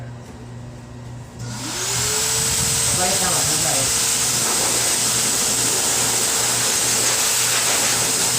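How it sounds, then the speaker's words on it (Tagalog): A blower dryer starts up about a second and a half in while a cat is being groomed, then holds a loud, steady rushing hiss to the end, with a person talking over it. "Ngayon, ibablow na natin siya."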